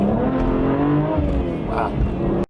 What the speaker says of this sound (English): And we'll do a little acceleration here.